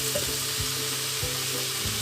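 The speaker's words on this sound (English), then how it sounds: "Stir fry over high heat." Ham and egg noodles stir-frying in a wok over high heat, a loud continuous sizzle with rhythmic scrapes and tosses of the spatula every half second or so.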